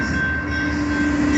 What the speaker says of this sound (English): we got a BNSF train